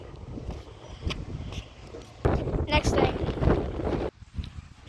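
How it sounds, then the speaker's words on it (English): Gusty wind buffets a microphone outdoors on a windy day, a steady rumbling roar that swells into a stronger, louder gust midway before dropping off abruptly near the end. "I just felt a huge gust of wind. It's still very windy out."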